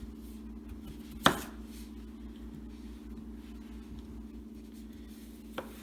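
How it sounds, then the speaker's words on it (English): A knife chops through starchy taro on a board, cutting it into large pieces: one sharp, loud chop near the start and a fainter knock near the end over a steady low kitchen hum. "Now I'm going to cut it to pieces because this is a starch, full of starch, vegetable kind."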